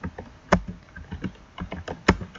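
Typing a router configuration command on a computer keyboard: a close, irregular run of quick clicking keystrokes with a few sharper, heavier key presses, no talk.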